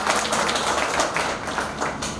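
An audience applauding at a Udaipur music event, a dense wash of clapping from many hands, loud and sustained with gentle swells in intensity.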